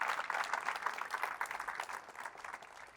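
A congregation applauds at a church service, steady dense clapping held for a few seconds and tapering slightly at the end, fairly faint, with no voices over it.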